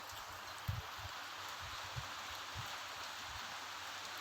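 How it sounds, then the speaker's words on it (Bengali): Heavy downpour falling on a home courtyard under dark clouds, a soft, even hiss throughout with occasional dull low thuds of drops. "আজ সারাদিন খুব বৃষ্টি হচ্ছে দেখুন কি পরিমাণে বৃষ্টি হচ্ছে মুষলধারে বৃষ্টি যাকে বলে"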